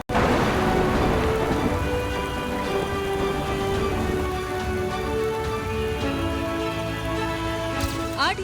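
Heavy monsoon rain pours down with strong wind in Lakhani, Banaskantha, Gujarat, a dense, unbroken roar of falling water with low thunder rumbling beneath and a sharper crack near the end.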